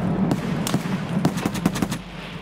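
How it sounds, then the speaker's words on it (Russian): Shotgun fire outside a building in Escape from Tarkov, a series of about eight or nine distant, muffled gunshots in an irregular rhythm over low ambient hum. "На улице дробовик."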